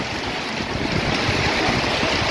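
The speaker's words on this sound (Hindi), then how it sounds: "तेज़ हवा के साथ अच्छी बूंदाबांदी, मोटी बारिश शुरू हो चुकी है" Heavy monsoon rain lashes down in strong wind on an evening in Liaquatpur, Rahim Yar Khan, Pakistan, a loud continuous wash of noise with gusty rumble beneath and no voices.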